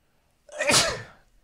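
One close, sharp sneeze bursts out after a moment of quiet and trails off, with no talk over it.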